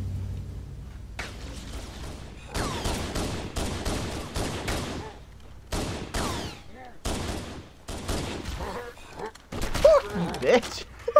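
A dropship in Halo Anniversary fires in repeated rattling bursts of plasma fire, separated by brief gaps and laid over game noise, with a voice speaking in places.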